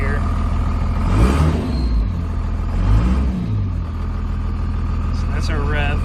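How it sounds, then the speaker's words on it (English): A 1999 Dodge RAM 2500 pickup with a 5.9 Cummins diesel rumbles at idle and revs up twice with a turbo silencer fitted, with a brief higher whine near the end. "So that's our rev with the turbo silencer."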